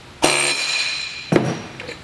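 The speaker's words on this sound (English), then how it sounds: "we use an air hammer and just drive it against these" An air hammer drives pins out of a Kamlok cam-lock hose coupling, giving two sharp metallic strikes about a second apart, each ringing briefly with a bright tone, close and clear with no voices.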